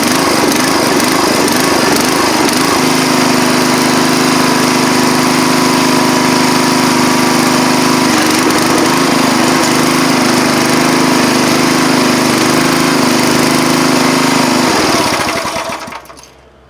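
A 50-year-old log splitter's small engine runs steadily and loudly close by with a droning hum, holding an even pitch for about fifteen seconds before cutting off at the end.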